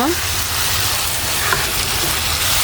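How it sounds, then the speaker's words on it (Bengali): Beef liver sautéing in a pan makes a loud, continuous frying sizzle, with occasional stirring scrapes, and no one speaks over it. "আমি অনেকক্ষণ ধরে ইনশাল্লাহ কলিজাটা কষে নিচ্ছি"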